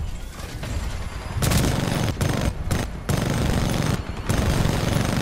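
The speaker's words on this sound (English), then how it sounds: "My name is Legion, and I have a big fucking minigun." The Legion titan's minigun in Titanfall 2 fires in loud, dense rattling bursts broken by brief pauses. A quieter spin-up comes first, then heavy sustained fire fills most of the stretch.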